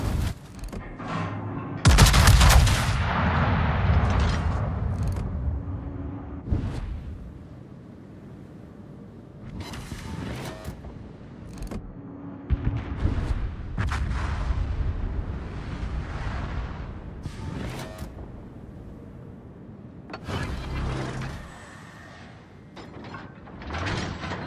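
Naval guns on the German battleship Schlieffen in World of Warships fire in heavy booming salvos, followed by mechanical turret clanks and ratcheting, with rumbling impacts spread through the passage.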